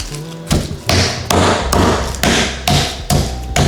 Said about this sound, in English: And then you're just gonna hammer it flat so when it cooks, it's nice and even